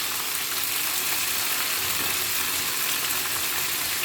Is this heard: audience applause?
no